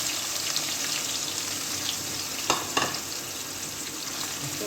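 Sliced onions fry with bay leaf and black cardamom for mutton shahi quorma, a soft continuous sizzle in the pan with two brief louder stirring scrapes partway through.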